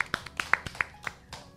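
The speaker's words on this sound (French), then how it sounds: "Alors, est-ce qu'on peut applaudir vraiment pour cette belle émission?" Applause during a French-language radio show broadcast on cancer survival: sparse, faint clapping of a few hands, a handful of separate claps spread over a second and a half with a quiet studio background.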